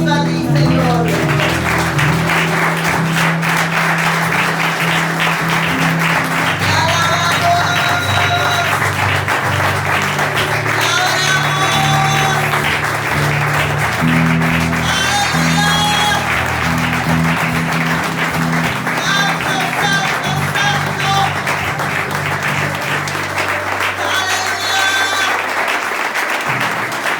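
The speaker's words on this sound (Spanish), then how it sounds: "Y ahora te damos un fuerte aplauso a ti, Señor." A church congregation claps steadily and continuously, with music and voices carrying on underneath throughout.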